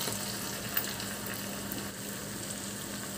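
Fish heads fry with spices in a pan for a Bengali fish-head chorchori, giving a steady, moderately quiet sizzle throughout with no talking.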